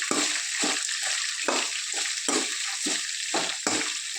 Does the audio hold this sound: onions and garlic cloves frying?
yes